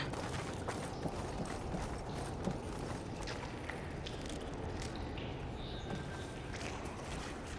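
A robotic machine creature from Horizon Forbidden West clanks and whirs nearby, with mechanical clicks, ratcheting and hoof-like steps over a steady ambient bed, fairly quiet overall.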